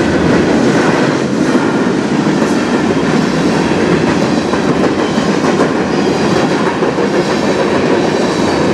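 A CN freight train rolls past close by on the Strathroy Subdivision, a loud continuous rumble with rhythmic clickety-clack of wheels over rail joints, steady throughout with wind noise mixed in.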